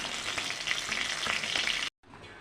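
Tengra fish frying in hot oil, a steady close crackling sizzle with small pops, cut off abruptly near the end before a quieter sizzle resumes.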